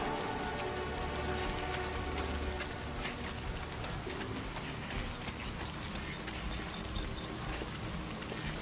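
Timefall rain in the Death Stranding video game patters steadily on surfaces, a dense, even hiss of drops with no talk over it.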